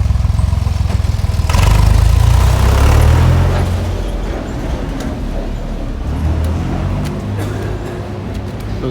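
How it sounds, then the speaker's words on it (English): A small tractor engine idles in a narrow stone alley of Jerusalem's Muslim Quarter, a steady low rumble that swells louder for a few seconds and then settles into a continuous mid-level drone. "Those little tractors are very popular around here."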